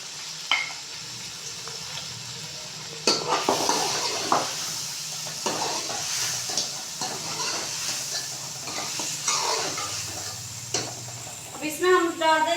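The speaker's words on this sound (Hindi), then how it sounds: "ये देखो इसे थोड़ा सा इसे भून लेंगे। अब इसमें हम चिकन डाल देंगे।" Chicken sizzles loudly in a pan for a bhindi gosht curry, broken by repeated scraping and clattering stirs, with a brief bubbling at the end.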